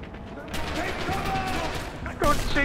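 Machine-gun fire in the World War II shooter Red Orchestra: Hero of Stalingrad crackles in rapid bursts, with a louder, closer burst near the end, under excited voices.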